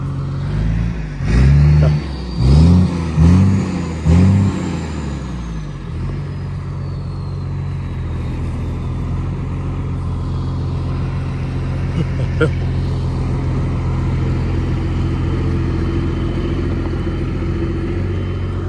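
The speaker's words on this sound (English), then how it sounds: "there's the truck driving around the yard already" A Cummins-powered truck engine idles and revs in the background while a person talks briefly near the start, then the low engine drone continues steadily.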